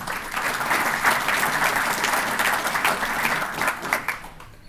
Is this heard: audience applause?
yes